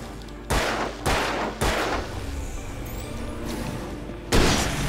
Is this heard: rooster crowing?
no